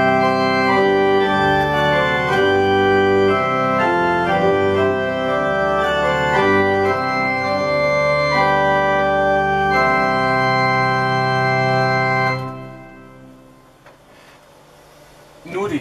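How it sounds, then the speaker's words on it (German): Church pipe organ in the Protestant Nikolaikirche, Siegen, playing its principal chorus without the mixture stop: sustained full chords changing steadily for about twelve seconds, then the sound cuts off and the room reverb decays to near silence. "Ohne Mixtur wird sich dann so anhören."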